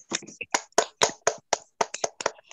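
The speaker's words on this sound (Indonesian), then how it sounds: "tepuk tangan dulu untuk Ervan." Children in a classroom clap for a classmate, about a dozen bursts of applause spread over a few seconds in short uneven claps, close and loud, with no talking.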